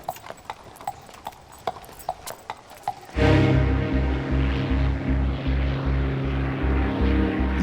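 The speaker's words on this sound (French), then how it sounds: "le simple bruit des sabots d'un cheval" Horse hooves clip-clop in a slow, even rhythm at first, then a loud droning propeller aircraft engine suddenly takes over, evoking wartime in 1940.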